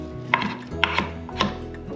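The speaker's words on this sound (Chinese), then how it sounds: "把香菇切条，换一个方向切碎" A knife chopping soaked, softened shiitake mushrooms on a board, a handful of crisp, spaced taps, close up with no one talking.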